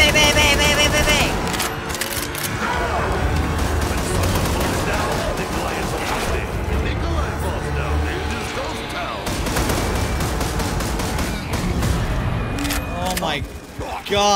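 Rapid bursts of A-12 shotgun fire against zombies in modded Call of Duty Zombies, loud and near, repeating in quick volleys with game effects and players talking and shouting over it.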